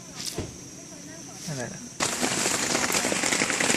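Steady rain patters and hisses on a surface, growing noticeably heavier and louder halfway through, with faint murmurs in the background, at Khao Yai, Thailand, around five in the evening.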